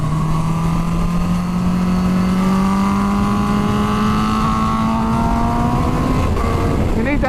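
Supercharged Kawasaki H2 sport bike accelerating, its engine note rising steadily in pitch through a long continuous pull, loud and close with a faint whine above, tailing off near the end.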